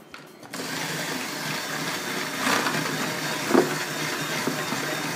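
An electric mixer whirs steadily while blending the first egg into banana bread batter, a constant motor drone with slight swells as the beaters work through the mixture.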